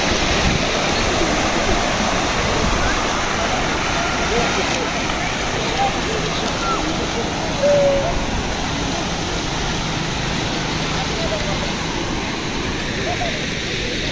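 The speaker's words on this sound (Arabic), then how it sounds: "في نافورة ماء" Splashing water from a fountain in a pigeon-filled public square in Casablanca, a steady broadband wash that runs the whole time, fairly loud and close, with faint ambient sounds from the square mixed in.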